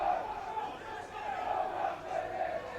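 A large football crowd at a Darlington versus Curzon Ashton National League North match chants and roars in a sustained, rhythmic swell, heard from a distance with no pauses.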